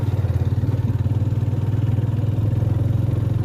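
A scooter engine runs with a steady, low, throbbing idle-like pulse, loud and close throughout, with no voices, on a road trip to Chinda Dara.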